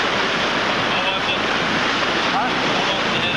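Wind roars steadily around the Polynesian sailing canoe Hokule'a at sea while waves wash and surge against the hull, a dense, loud, unbroken rush with no talk.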